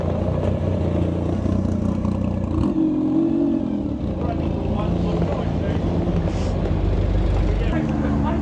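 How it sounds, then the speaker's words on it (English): A McLaren P1 supercar passes at a car gathering, its engine a loud, continuous low roar that swells and shifts in pitch as it pulls through, with wind buffeting the microphone throughout. "McLaren P1 pulling through, and behind it, the new Mustang GTD."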